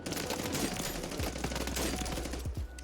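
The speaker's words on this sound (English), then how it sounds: "every time you release, it shoots a bullet" A Renetti pistol fires in the video game Warzone, with loud, dense, rapid shots running continuously into a sustained fusillade.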